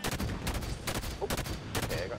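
Gunfire in Halo 5 on Legendary difficulty, rapid bursts of shots in quick succession, moderately loud and fairly close.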